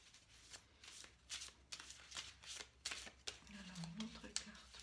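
Tarot cards are shuffled in a quick series of crisp riffling bursts, fairly close, while a soft voice murmurs underneath near the end.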